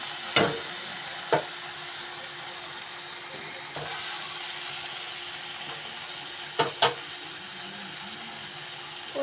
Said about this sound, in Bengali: এবার দিয়ে দেবো ভেজে রাখা চিংড়ি মাছ, দিয়ে ভালো করে কষিয়ে নিতে হবে।